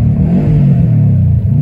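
A 2012 Subaru WRX engine revs hard with a deep, steady roar and a slight rise and fall in pitch, no voices.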